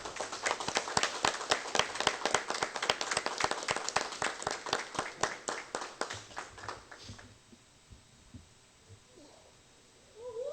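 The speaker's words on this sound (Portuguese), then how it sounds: "Peço a todos uma salva de palmas ao homenageado." People at a municipal council session clap in unison for an honoree, a rhythmic run of about twenty sharp, steady claps that stops abruptly, leaving quiet room tone with faint murmuring.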